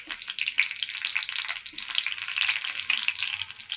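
Green chilies and a pinch of cumin seeds frying in hot oil, a close, bright crackling sizzle with bursts of popping and brief stirring scrapes, no voice.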